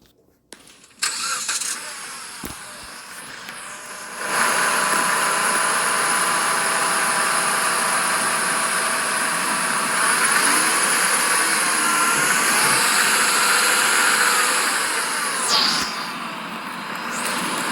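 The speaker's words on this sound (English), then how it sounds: "So I'm going to say that whining that you're hearing is going to be the power steering." A flood-damaged car's engine starts and settles into a steady run, with a high power steering whine sitting over the engine noise, close and loud, no voices.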